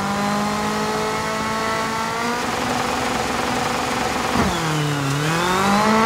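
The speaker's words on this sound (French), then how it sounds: "Et on s'élance dans ce rallye du Pays de Galles. Premier départ. Avec cette petite Mitsubishi Colt." A small Mitsubishi Colt rally car in DiRT 4 sets off on a Wales rally stage with a loud, close engine drone. The engine holds steady, then the pitch dips and climbs again as it shifts and accelerates.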